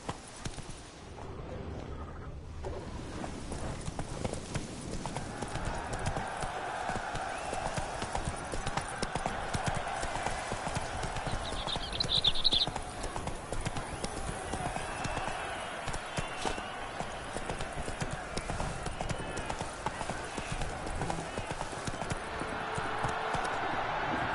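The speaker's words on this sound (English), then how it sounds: "Whoa there, Roach. Giddy up" Horse hooves in The Witcher 3 pound a continuous galloping clip-clop rhythm throughout, loud and close, with a brief whinny, game ambience and someone talking over it.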